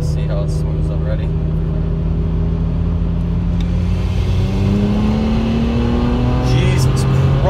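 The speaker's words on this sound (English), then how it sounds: "let's try to get a fourth gear pull in" A turbocharged car accelerating hard in fourth gear, the engine note rising steadily into a loud, sustained roar with a slipping, swelling pitch. Voices break in briefly at the start and end.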